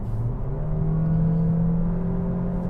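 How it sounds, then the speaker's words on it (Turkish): Honda HR-V Hybrid petrol engine revving at higher road speed, a steady, loud droning hum with a rising tone that holds throughout, with no talking. "duyduğunuz gibi daha çok artık ben varım diyen bir benzinli motorla muhatap olmaya başlıyorsunuz"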